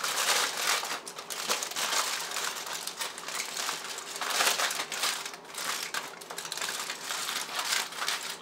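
Wrapping is folded down around ducana dough with continuous close crinkling and crumpling, steady and fairly loud, without talk.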